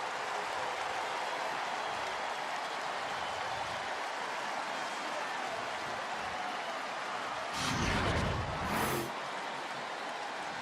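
A homecoming stadium crowd at a West Virginia football game roaring after a touchdown, a broad steady wash of distant cheering that swells briefly near the end.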